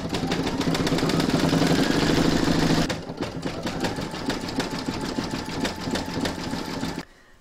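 An embroidery sewing machine stitches the trim on a large reindeer applique with a fast, even mechanical rattle, louder for the first few seconds, then continuing more softly before stopping near the end.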